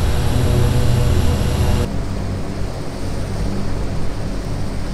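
Large aircraft engine running roughly with a fire, a loud steady drone and rumble that abruptly drops in level about two seconds in as the engine is shut down, leaving a continuous lower roar.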